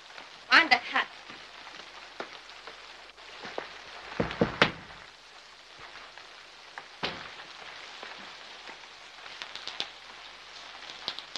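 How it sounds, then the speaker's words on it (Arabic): Heavy rain pours outside on a winter night, a soft steady patter with scattered louder splashes and drips against surfaces, fairly close and continuous throughout. "بره في مطر كتير."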